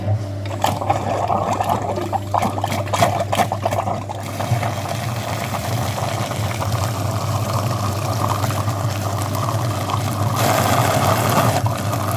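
Flushing the heater core of a VW Passat B6 with old antifreeze debris in it: a steady rushing flow of liquid runs through hoses over a constant low pump hum, loud and continuous with a few clicks.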